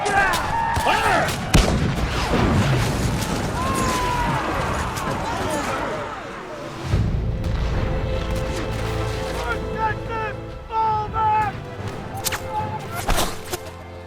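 Musket volleys and artillery in a battle film depicting the Texas Brigade's counterattack at Antietam, sharp cracks and booms layered over shouting voices, with heavy low rumbling explosions and scattered whistling shots.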